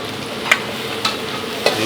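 Fried rice and shredded chicken stir-frying in a hot pan in a busy food stall under a steady sizzle, with three sharp spatula scrapes spaced evenly apart.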